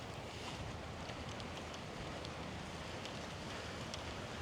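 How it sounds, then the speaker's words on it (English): Strong wind batters the microphone on a golf course in the aftermath of a storm, a constant loud roaring rush with brief gusty flutters and no talking. "It's pretty incredible how windy."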